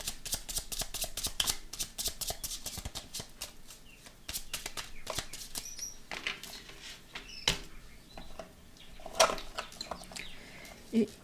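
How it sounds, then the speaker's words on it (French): A small deck of rune cards is shuffled up close, giving a run of quick, papery flicks and riffles that continue for several seconds and pause briefly midway. No speech is heard. "Et on va prendre la petite carte des runes. Allez, on va la mélanger un petit peu."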